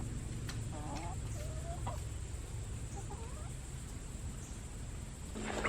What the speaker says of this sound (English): So you can hear my big ones begging for food.